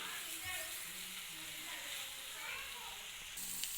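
Sliced radish frying in a pan with chili powder and salt, a steady soft sizzle running continuously throughout at moderate distance, with faint stirring.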